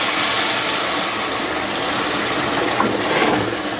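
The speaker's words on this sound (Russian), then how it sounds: "Вино можно наливать и 2 стакана." Wine is poured along the side of a pan of risotto rice, a steady close, loud liquid rush with light sizzling and splashing throughout.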